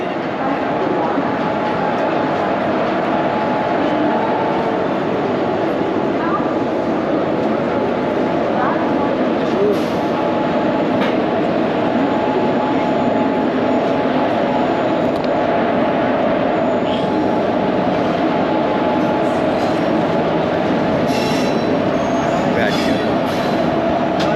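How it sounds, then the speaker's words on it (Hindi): A WAP5 electric locomotive arriving to couple onto a train at Moradabad Junction, heard as a steady low rail rumble and station hum throughout, with faint distant clanks and voices in the background. "कपलिंग के लिए जो है लोकोमोटिव आ चुका है WAP5 इलेक्ट्रिक लोकोमोटिव, जो कि मुरादाबाद जंक्शन पे अभी कपलिंग होगी"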